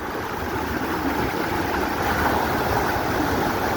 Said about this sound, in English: You can hear the water running under me.